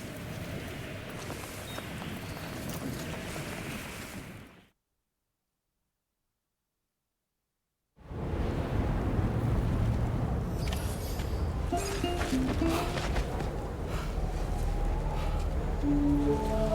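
Wind gusting steadily outdoors in Death Stranding 2, a broad continuous rushing that cuts out briefly to silence and then returns stronger.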